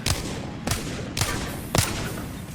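Gunfire from the Apex Legends video game, with four evenly spaced sharp, loud shots used to destroy Caustic's gas traps, each with a short tail over a steady background hum.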